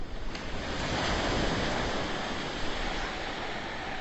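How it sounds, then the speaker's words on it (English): Ocean waves on Maui, Hawaii wash in a steady, full roar of surf with a soft swell and hiss and no voices. "Beginning to allow your breath to sync up to the rhythm of the ocean."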